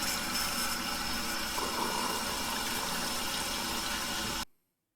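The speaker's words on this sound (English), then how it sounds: "I scrub the food storage container clean." Running water washing a food storage container with a sponge in the Seven Nights Ghost game, a steady loud gushing stream that fills the scene and then cuts off abruptly.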